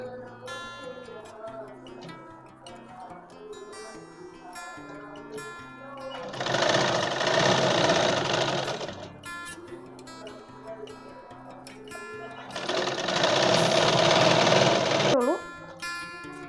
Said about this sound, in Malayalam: ഇനി നമുക്ക് 1-2 സ്റ്റിച്ച് കൂടെ കൊടുക്കാം.